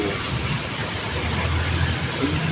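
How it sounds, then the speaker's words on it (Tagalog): Heavy, sudden rain pours down outdoors, heard from under a shelter as a loud, constant broadband hiss with a low rumble beneath, steady throughout with no talking. "Dito ako sa Milong muna kasi ano eh, lakas ng ulan."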